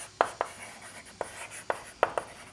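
A pen or chalk taps and scratches out a maths equation in short strokes, about six distinct marks spaced unevenly, close and clear with no talk.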